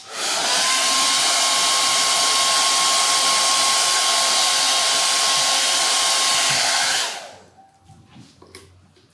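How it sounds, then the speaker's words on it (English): Hair dryer blowing steadily on stencil paint for about seven seconds, a loud continuous whooshing hum with a faint motor whine, then cutting off to leave only quiet room sounds and small handling noises. "Now what we're gonna do is we're gonna blow dry that"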